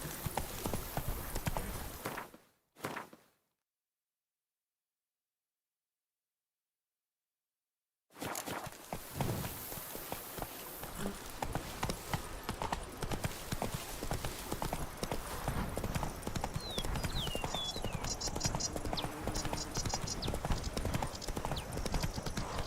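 Horse hooves clip-clopping in the Witcher 3 video game, a steady close rhythm that breaks off into a few seconds of silence, then resumes and runs continuously, with faint neighing in places.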